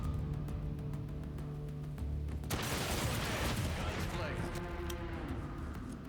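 Gunfire from the tactics video game Hard West II, a loud burst of shots with a ringing, echoing tail, under continuous speech.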